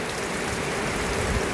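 Steady rain pours down on an outdoor site where a house wall and fence are being built, a dense, even hiss of drops striking surfaces at close range with no breaks, loud and continuous throughout, no talking.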